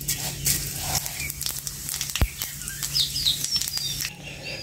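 Cumin seeds and a bay leaf sizzle in hot oil in a pan, a close crackling patter with scattered pops and one sharp snap, going on steadily with no talking.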